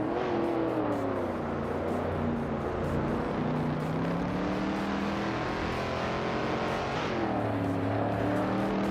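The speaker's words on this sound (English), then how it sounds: "Nulavi is driving a 1970 Ford Maverick Dot" A 1970 Ford Maverick race car in a racing video game roars loudly and continuously, its engine pitch climbing and dipping with gear changes and throttle.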